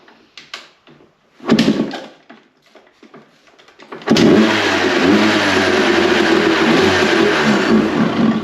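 An old Honda CR250 two-stroke dirt bike sputters through a few failed catches, then fires and settles into a loud, continuous raspy idle close by that runs to the end.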